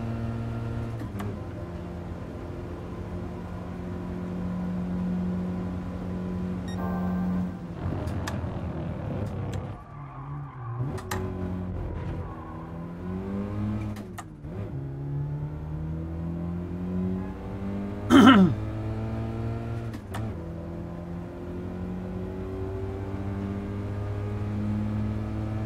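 Lancia Delta engine in Gran Turismo Sport: a steady mid-range drone that rises and falls through repeated rev sweeps and gear changes, with a brief sharp spike near the end, heard alone without voices.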